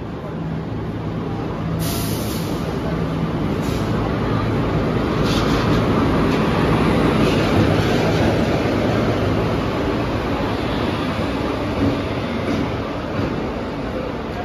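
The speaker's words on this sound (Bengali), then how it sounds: "অনেকক্ষণ অপেক্ষা করার পর ফাইনালি আমাদের ট্রেন প্ল্যাটফর্মে ঢুকছে" The Darjeeling Mail, the 12343 Sealdah to NJP express, pulls into a station platform with a loud, sustained rumble of wheels and carriages that holds steady for the whole stretch.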